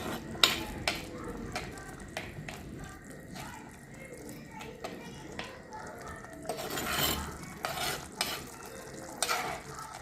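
A spoon scrapes and stirs through a thick bitter gourd relish bubbling in a pan, with soft sizzling underneath and a few louder clinks against the pot.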